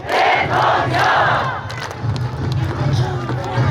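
A crowd at a Daegu election rally for candidate Kim Moon-soo cheers and claps loudly, with shouted voices surging at first, then easing to a steady roar of applause and chanting.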